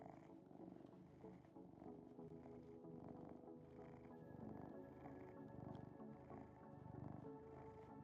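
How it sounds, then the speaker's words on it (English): A cat purrs loudly and steadily up close, a continuous rumbling vibration with no talking. "He's purring very loudly."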